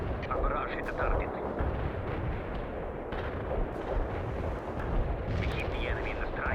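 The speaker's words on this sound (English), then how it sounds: "Commencing the barrage. Our barrage hit the target." Artillery barrage in the World in Conflict real-time strategy game: dense, continuous rumbling explosions and booming blasts layered thickly together, loud and sustained, with radio-style voices speaking over the bombardment.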